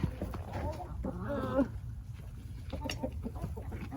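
Hens cluck in short bursts nearby in a coop, with a person talking over them and some rustling movement of a wheelbarrow.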